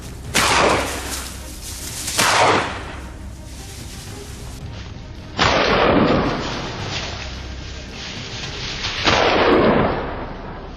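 Rifle shots from boar hunters on a hillside ring out in four separate sharp reports, each with a long rolling echo that fades before the next, heard at a moderate distance with no talking.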